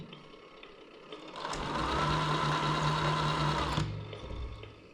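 Tamiya Scania 770S V8 8x4/4 RC truck engaging reverse gear, a steady electronic motor whine and hum rising in, holding for a couple of seconds, then cutting off, close up with no talking.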